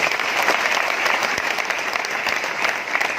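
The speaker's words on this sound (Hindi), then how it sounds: "एक बार तालियां किशोर भाई के लिए" Audience applause at a Mi Lifestyle marketing business-plan seminar, steady dense clapping from a large crowd held at an even loud level throughout, with no speech over it.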